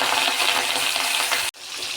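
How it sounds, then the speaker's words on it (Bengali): Pangas fish frying in hot rice bran oil in a wok, giving a loud, steady hiss and crackle that cuts out sharply near the end and then resumes slightly quieter. "মাছ ভাজার জন্য কড়াইতে তেল দিয়েছি।"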